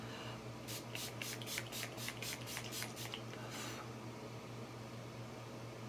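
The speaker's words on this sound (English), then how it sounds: "Let's do the Urban Decay All Nighter Spray." Urban Decay All Nighter setting spray is spritzed close to the mic, about nine quick bursts in steady rhythm followed by one longer spray, over a faint steady room hum.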